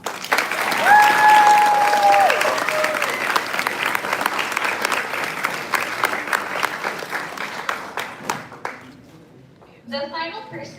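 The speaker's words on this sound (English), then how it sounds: "Let's please give our staff one last round of applause." An audience at a staff appreciation event gives a sustained round of applause, loud and dense for about eight seconds before thinning out, with a brief burst of clapping near the end.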